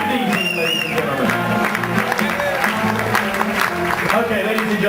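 An audience on a cruise ship keeps up steady applause and cheering, with sharp claps throughout and an announcer's voice talking over the crowd noise.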